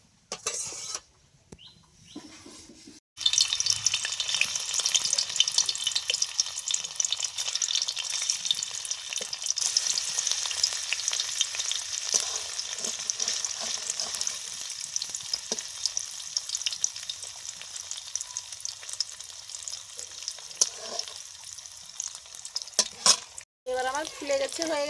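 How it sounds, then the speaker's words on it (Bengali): Paneer pieces fry lightly in hot oil in a pan, a loud, steady close sizzle that starts after a few quiet seconds, with brief clatter of handling near the end. "এবারে আমি হালকা করে ভেজে নিব"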